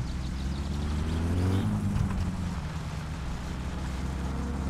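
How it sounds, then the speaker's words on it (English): Car engine driving in the video game My Summer Car after carburetor tuning, a steady low hum whose pitch drops as it eases off, then settles into a smooth even drone. "It sounds like a brand new car,"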